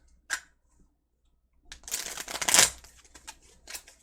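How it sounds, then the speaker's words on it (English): Tarot cards are shuffled by hand up close: one quick flick, a quiet pause, then a burst of papery riffling and slapping that tapers into a few light taps. "Let me shuffle them the other way."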